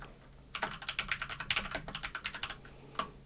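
A rapid burst of keystrokes on a computer keyboard while introduction text is written in Google Docs, close and crisp, about two seconds of steady typing and then a single final tap, with no voices.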